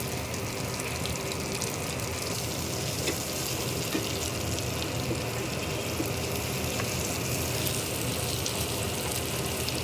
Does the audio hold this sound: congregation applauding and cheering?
no